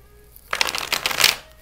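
A deck of tarot cards being shuffled by hand, a close burst of riffling and flicking that starts abruptly after quiet room tone and runs for about a second before fading.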